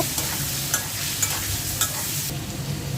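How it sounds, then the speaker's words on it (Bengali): Prawns frying in a hot pan, a continuous close sizzle and crackle with a few sharp spatters, briefly easing toward the end. "চিংড়ি মাছগুলো দিয়ে দিচ্ছি।"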